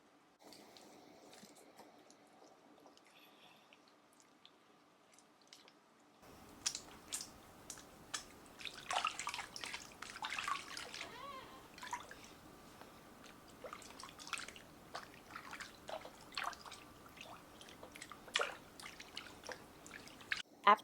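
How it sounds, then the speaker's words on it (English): Water splashing and dripping while rinsing foot scrub off feet during a home pedicure, starting after a quiet stretch with irregular close splashes and drips, moderately loud and without talk. "After rinsing off the foot scrub"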